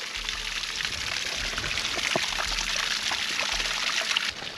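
Water trickling and pouring beside a hiking trail in Glacier National Park, a steady close splashing stream with bright bubbling detail and a low rumble underneath, continuous and fairly loud with no talk.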